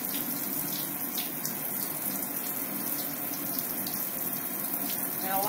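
Tap water running steadily into a sink during a surgical hand scrub, a continuous close splashing rush with faint scratching clicks from cleaning under the fingernails.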